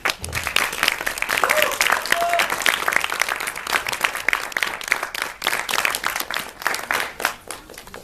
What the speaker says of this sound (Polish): Wielkie brawa dla reżysera